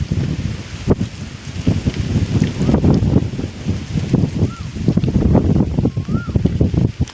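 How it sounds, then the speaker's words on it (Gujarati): Strong wind buffets the microphone in steady low rumbling gusts, loud and close, with no voices. "પવન બહુ છે."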